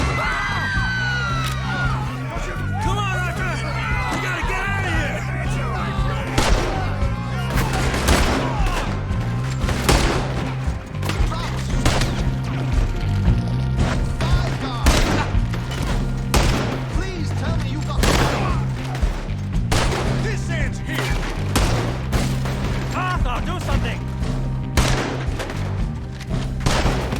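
A Red Dead Redemption 2 gunfight, with repeated gunshots cracking over a steady, driving music score and shouting voices throughout.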